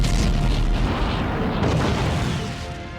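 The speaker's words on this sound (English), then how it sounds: "others die in violent explosions" Deep, rumbling explosion effect standing in for dying stars in a violent cosmic blast, a dense roar that fills the whole clip and eases slightly toward the end.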